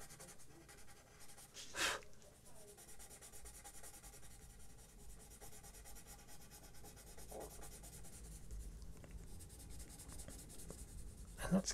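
A pencil draws and shades on paper, making soft, close, continuous scratching and rubbing strokes with a few sharper scrapes, quiet and without talk.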